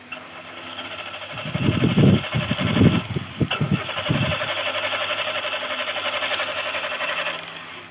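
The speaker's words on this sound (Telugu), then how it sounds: "సో ఇప్పుడు మీ ముందే కార్ని అయితే స్టార్ట్ చేస్తున్నా" A car engine cranks in several loud bursts, turning over without catching, while a steady mechanical hum runs beneath and continues after the cranking stops. The car was started after sitting with petrol that had been buried underground for three months.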